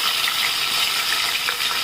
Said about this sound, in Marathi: लसूण घेतलं ते टाकूया